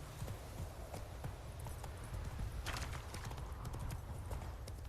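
The horse Roach from The Witcher 3 walks with a steady clip-clop of hooves on the ground. The footfalls are close and repeat over a constant outdoor background hum.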